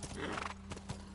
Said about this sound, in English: I don't know how to ride the horse.